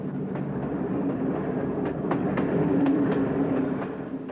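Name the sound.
train riding on rails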